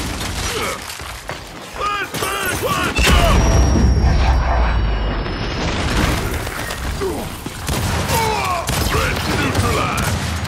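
A frag grenade explodes in a Gears of War 5 team deathmatch with one heavy, deep boom followed by a lingering high ringing. Steady gunfire and battle noise surround it, and voices can be heard over the fighting.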